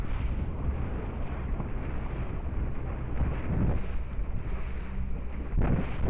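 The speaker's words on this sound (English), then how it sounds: "Motor seems to be running good, Ron." A boat motor runs steadily on open water, a constant low drone mixed with wind buffeting the microphone, with no talk.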